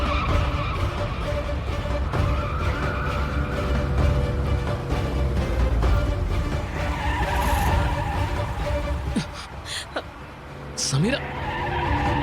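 A car driven fast and skidding, a loud continuous engine roar and road rumble with sharp tire squeals breaking out near the end, people talking over it.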